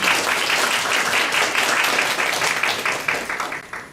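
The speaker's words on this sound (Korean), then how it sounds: "다시 한번 큰 박수 부탁드립니다." Audience clapping at a university biomedical engineering graduation ceremony, a dense steady crowd applause that holds strong and then thins and fades toward the end, with no voices.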